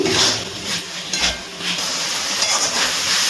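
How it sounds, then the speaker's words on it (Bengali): Boiled broccoli and spices are stirred and fried together in a pan, giving a steady close sizzle with soft scraping and occasional clinks of a spoon against metal. "এবারে খুব ভালো করে সব কিছু ভালো করে মিশিয়ে আরও একটু কষিয়ে নিচ্ছি"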